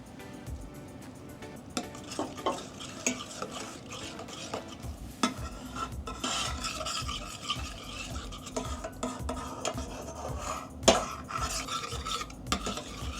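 A spoon scrapes and stirs steadily across the bottom of a pan of butter chicken, a continuous rasping, rubbing sound with small clinks and a faint sizzle underneath, close and fairly quiet, with no talking.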